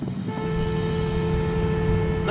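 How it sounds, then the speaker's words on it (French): A car horn blows one steady, continuous tone from a moving car, loud and close over the rumble of the vehicle, ending with a brief sharp noise. "Je vais klaxonner."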